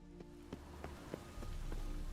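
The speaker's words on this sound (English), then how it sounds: "Rain again." Rain falls in a video game as a soft, steady patter on surfaces, faint and brief. Occasional louder drops tick through it, and the low wash of rain thickens toward the end.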